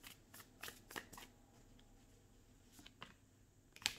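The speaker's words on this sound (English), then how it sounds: "I'm going to use the Light Seers Tarot deck for you guys and get a few cards for each" A Light Seers Tarot deck being shuffled by hand: soft, papery riffles and snaps come in a loose series of quick bursts, with a sharper flick near the end and no talking.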